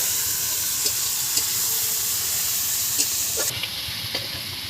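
Water poured into frying spices for a country chicken curry, a steady loud sizzle and hiss with occasional stirring clinks over a low bubbling rumble.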